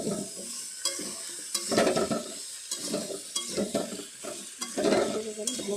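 Mixed vegetables frying and being stirred in a pan, a steady close sizzle broken by repeated scraping stir strokes at an irregular rhythm, with no talk.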